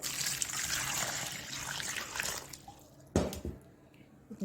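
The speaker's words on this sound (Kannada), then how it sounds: "ಚೆನ್ನಾಗಿ ವಾಶ್ ಮಾಡಿ ತೊಗೊಳ್ಳೋಣ" Splashing and trickling water as raw Totapuri mangoes are rinsed in a bowl, continuous for a few seconds, then a sharp knock and quieter drips.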